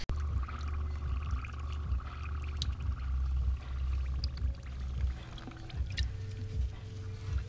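Water poured over motorcycle exhaust wrap to soak it on a Harley-Davidson Iron 1200, a steady close splashing and trickling that runs continuously throughout.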